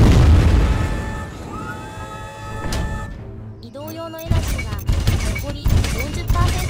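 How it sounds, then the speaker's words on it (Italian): A robot fires a powerful cannon in the PC game Dual Gear, booming blasts and bursts that repeat loudly through the game soundtrack, with a voice speaking over parts of it. "ad esempio questo qua ha un cannone"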